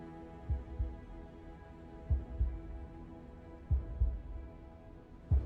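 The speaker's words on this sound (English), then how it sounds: "we have a heartbeat, or are we hearing a heartbeat?" A heartbeat in the video game Lies of P, low soft thumps in paired lub-dub beats repeating about every one and a half seconds over a quiet humming background.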